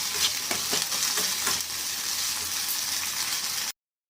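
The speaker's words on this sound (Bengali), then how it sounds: "আদা রসুনটাকে ভালো করে কষিয়ে নেব।" Ginger and garlic paste frying in a pan, a steady bright sizzle with a few soft stirring scrapes early on, close and continuous until it cuts off abruptly.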